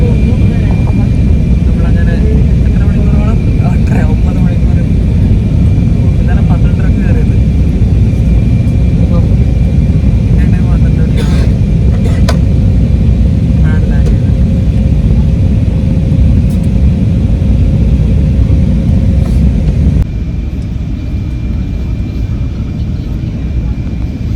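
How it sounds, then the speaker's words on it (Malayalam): Loud, steady aircraft engine roar from inside a plane landing at Kozhikode airport, a dense low rumble that drops slightly in level near the end. "അങ്ങനെ നമ്മൾ ഫ്ലൈറ്റ് കോഴിക്കോട് ലാൻഡായിട്ടോ"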